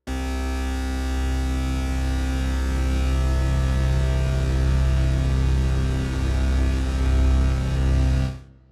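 Sustained detuned drone built from samples of twenty Game Boys in the LABS Obsolete Machines instrument, a dense, steady buzzing hum with slightly beating layered tones that holds evenly and then cuts off abruptly at the end.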